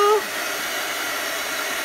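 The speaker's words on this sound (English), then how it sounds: "Do not let your dryer hit your transfer. It will shrink it." A handheld hair dryer blows steadily at close range to dry a chalk paste transfer during a crafting demo, a constant broadband whoosh after a brief moment of voice at the start.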